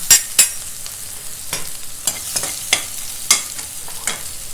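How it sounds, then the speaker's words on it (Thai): Garlic and mushrooms stir-fry in a pan for a vegetarian Betong noodle dish, giving a close, steady sizzle broken by sharp, irregular scrapes and clinks of the spatula, with no talking. "ใส่กระเทียมเลยนะคะ"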